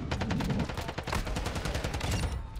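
Rapid TAC 56 rifle fire in a video game, a fast string of sharp, evenly spaced shots with no talking, loud and close.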